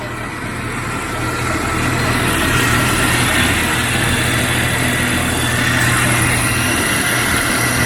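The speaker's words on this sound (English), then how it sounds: "I took the breather off and she's idling." A 1992 Jeep Cherokee engine idles steadily and loudly close by with the air breather removed, a continuous low rumble with an even, unbroken rhythm and no speech.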